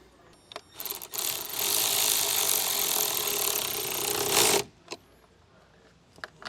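A socket wrench turns a nut on a battery terminal on a 2023 Volvo, making a loud, steady ratcheting buzz that lasts several seconds. A few isolated clicks come before and after it. No speech is heard.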